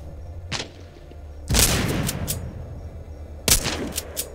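A bomb thrown by a garden gnome enemy explodes in the zombie shooter game The Walking Zombie 2, giving a few loud, sharp booming blasts in close succession with a faint thud before them.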